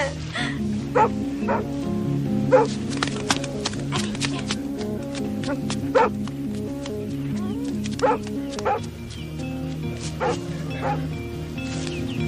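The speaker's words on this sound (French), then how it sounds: "Oh, le joli chien." Dog barks ring out repeatedly in short bursts, with yips mixed in, over a steady musical background that continues throughout.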